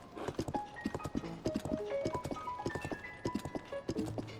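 Horse hooves clip-clop in a quick, even rhythm in The Legend of Zelda: Tears of the Kingdom, the steady trotting close and clear over soft in-game music.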